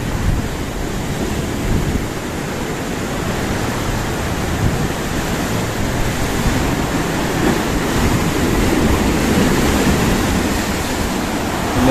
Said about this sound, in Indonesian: Ini ombak tuwel, tuwel,